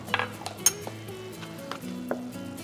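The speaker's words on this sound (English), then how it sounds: "I stir things with the measuring spoons I use" Measuring spoon stirring cornstarch into beef broth in a small dish, a few light metallic clinks and scrapes close by over faint background kitchen noise.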